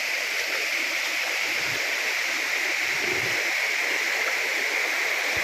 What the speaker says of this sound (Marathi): पाटामध्ये पण थोडं पाणी आता यायला सुरुवात झाली आहे